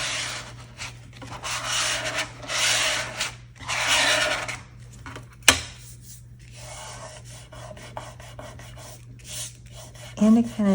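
Dried glue being rubbed off a handmade card journal cover, heard as close, soft scrubbing strokes in bursts, separated by pauses and one sharp tap, with no talk.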